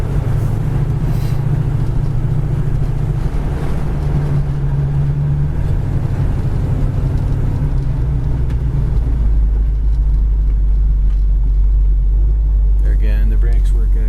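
A 1973 Mercury Cougar XR7 with a 351 engine driving on a road, with a steady, loud low engine and road rumble throughout. Someone talks over it.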